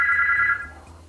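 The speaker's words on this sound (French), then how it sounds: "Le téléphone sonne." A telephone rings once with a bright, steady electronic tone for about half a second, then fades out under faint room noise.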